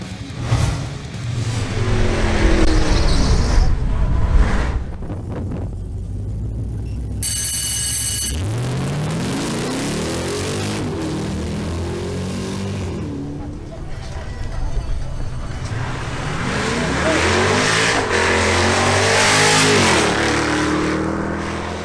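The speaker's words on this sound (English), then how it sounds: "Now it's Alexandra de la Espriella's turn in her Chevrolet Camaro SS." A Chevrolet Camaro SS makes a drag racing qualifying run, its engine revving loudly and climbing in rising sweeps through the gears, with a voice heard over parts of the run.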